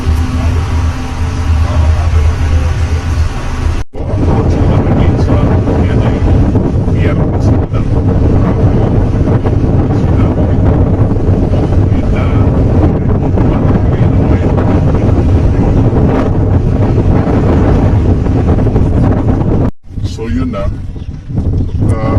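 Loud, steady wind roar buffets the microphone aboard a ferry at sea, with a low engine and water rumble beneath and people talking intermittently over it.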